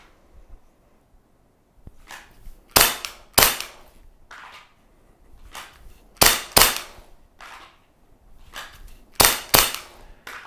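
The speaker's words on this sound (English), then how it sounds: "I can shoot multiple shots on one single target" Handgun shots on a Laser Shot training system fitted with a recoil kit: sharp, loud cracks in quick pairs and clusters, repeated several times over about ten seconds, each with a short tail, no talk.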